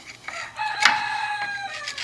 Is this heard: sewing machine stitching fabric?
no